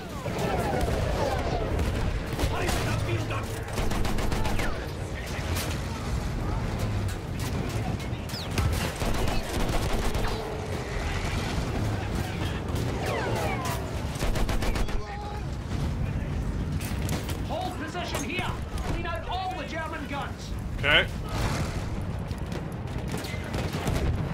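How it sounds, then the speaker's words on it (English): Machine gun fire and battle noise from the Battlefield 1 video game, a dense, continuous barrage of rapid shots and explosions filling the whole stretch, with a voice talking over it. "Those machine guns are holding our lads back."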